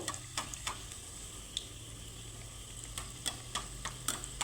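Pitha fry in oil in a pan, three at a time, with hot oil splashed over them, giving a low continuous sizzle dotted with faint sharp crackles and pops, no voices.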